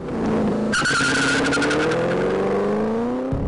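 A 2013 Ford Shelby GT500 launches with launch control held near 3,800 rpm: a loud engine roar climbs steadily in pitch as tires squeal sharply for a moment, then the car pulls hard with the note rising continuously.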